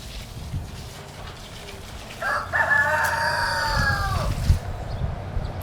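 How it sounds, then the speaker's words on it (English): A rooster crowing at a farmyard with goats nearby, one clear drawn-out call of moderate loudness at mid distance over steady outdoor background noise. "That's one of my roosters."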